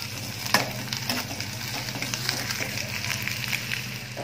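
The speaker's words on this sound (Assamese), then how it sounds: "আদা নহৰু কেঁচা ভাৱটো যোৱালৈকে ভাজি দিম।" Crushed ginger and garlic fry with onion in a pan, giving a steady close sizzle with light crackles and occasional stirring knocks under a continuous low hum.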